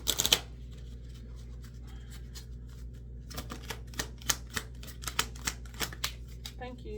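Tarot cards shuffled and dealt by hand, a quick rustling riffle at the start, a quiet pause, then a steady run of soft, crisp card snaps and slides, close up against a low background hum.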